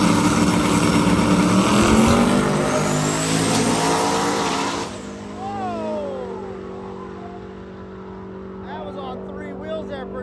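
A pair of quick stick-shift drag cars, one an 850 Isuzu, roar off the line with loud revving engines and a rising whine. They fade as they run down the track while a voice talks over the noise.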